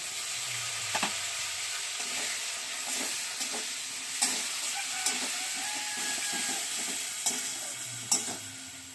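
Ginger, onion and garlic paste sizzles with fried potatoes in a pan, a close, steady frying hiss broken by repeated spatula scrapes and taps as the mixture is stirred.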